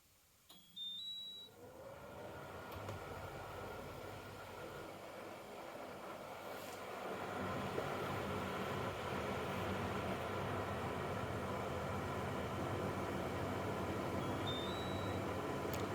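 Vonhaus smart wifi 20 litre dehumidifier switching on with a couple of short electronic beeps, then its fan and compressor rising into a steady, broad whirring hum that grows louder and holds constant, close by.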